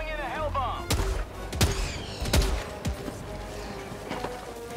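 Helldivers 2 grenade launcher rounds exploding against buildings, a string of sharp booming blasts at irregular intervals over a busy game soundscape, with voices talking in between.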